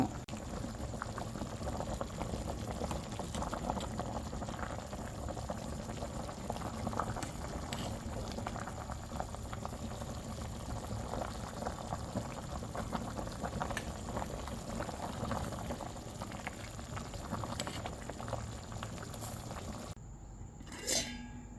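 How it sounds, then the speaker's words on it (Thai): A pot of clear soup with fresh bamboo shoots and tender pork bones bubbles at a steady rolling boil for a long stretch, a dense even gurgle close by, with a brief clatter near the end. "เดือดฟุดฟุดจ้าพี่น้อง"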